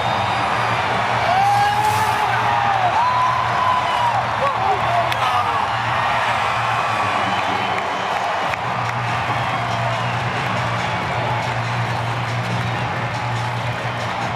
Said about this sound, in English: take a second and listen to this crowd for you right now